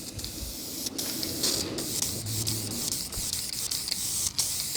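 A steady aerosol hiss sprays a coat over a laminate repair continuously, broken by a few brief pauses and sharp clicks of the nozzle.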